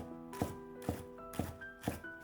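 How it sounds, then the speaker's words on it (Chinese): Knife chopping green onions on a cutting board, four evenly spaced crisp thunks close up and fairly quiet, with no talking. "切成葱花"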